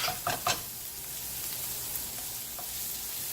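Shallots sizzle in a hot pan, a steady close frying hiss throughout, with a few stirring scrapes at the start.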